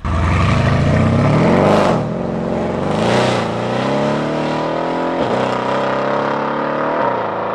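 A tuned 750 hp Mercedes E63 AMG accelerating hard with its wheels spinning, the engine roaring loud and close with rising, wavering revs and brief dips between gear pulls.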